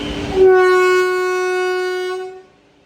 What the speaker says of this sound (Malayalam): ഇതാണ് നമ്മുടെ ലോക്കോമോട്ടീവ്